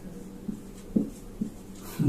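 Chalk or marker strokes on a board during a math lecture, a few short scratchy taps and strokes close by, with a quiet room between them.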